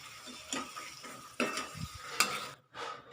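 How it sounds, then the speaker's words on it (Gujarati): Fenugreek leaves are stirred in a cooking pan, with several soft scraping strokes and light clinks of a spoon against the pan over a faint sizzle, close by and quiet, with no talking. "આપણે એમાં ભાજીને ઉમેરીશું। આપણે સરસ હલાવી લઈશું।"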